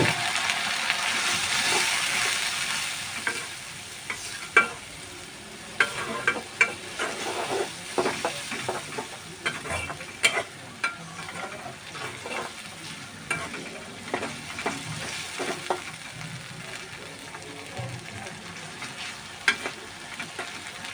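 Ginger, garlic and turmeric masala fries in a pan, a steady close sizzle broken by frequent scraping and clattering stirs of a spoon over about twenty seconds, with no talking.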